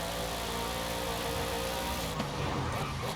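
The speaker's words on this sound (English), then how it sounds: "This doesn't sound like a flat panel crank at all." McLaren Sabre engine running in Forza Horizon 5, a steady mid-to-low drone held at constant loudness throughout, with a slight shift in tone near the end.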